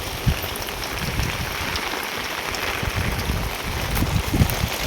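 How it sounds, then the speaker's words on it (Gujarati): Steady rain falls outdoors at a farm beside a brinjal field in the afternoon, a dense, even patter with no voices over it. "જો આવો વરસાદ આવે છે."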